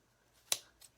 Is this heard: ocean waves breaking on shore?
no